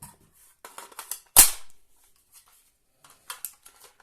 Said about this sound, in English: insert your mag, push pull, no worries.